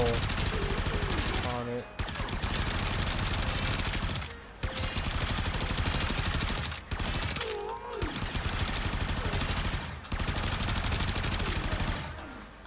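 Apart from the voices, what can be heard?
machine gun firing in a video game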